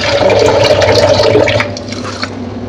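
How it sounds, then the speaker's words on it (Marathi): Rice and moong dal are swished and rinsed in water in a kitchen pot, a loud close sloshing and churning that fades into softer trickles and drips. "मस्त चार वेळा मी धुवून घेतले हे तांदूळ आणि डाळ चार वेळा धुतलेत"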